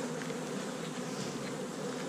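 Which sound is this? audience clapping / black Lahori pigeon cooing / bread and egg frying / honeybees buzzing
honeybees buzzing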